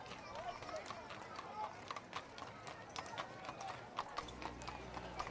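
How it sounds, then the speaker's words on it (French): Trotter horses pull a carriage in a town parade, their hooves clip-clopping in a quick, steady rhythm on pavement, moderately close and fairly faint, with crowd noise in the background. "une voiture serrée avec des chevaux de race traqueneur"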